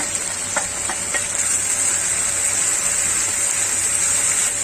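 Green chillies and ginger garlic paste frying in a pan, a steady close sizzle and hiss with a few faint clicks, holding evenly throughout with no talk.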